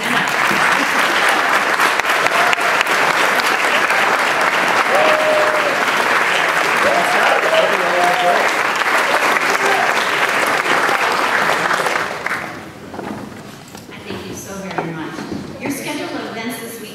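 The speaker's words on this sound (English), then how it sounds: "let's wave and give him a round of applause" Sustained loud applause from a large conference audience fills the room for about twelve seconds, then fades into scattered claps and murmured voices.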